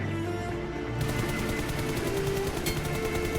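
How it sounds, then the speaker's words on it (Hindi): Rapid gunfire from the mobile battle royale game BGMI, a dense continuous stream of shots layered over loud game ambience, with no talking. "मैंने कुछ शॉट्स लेने का ट्राई किया।"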